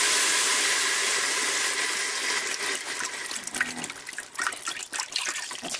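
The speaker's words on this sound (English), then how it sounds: "I'm going to pour in the vegetable broth" Vegetable broth pours into a pan of sautéed onions and garlic, starting as a steady rushing stream and breaking into splashing, bubbling gurgles as the liquid hits the pan.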